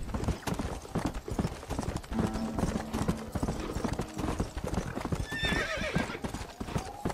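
A horse in Red Dead Redemption Undead Nightmare gallops with rapid, rhythmic hoofbeats up close, and a shrill whinny breaks out near the end.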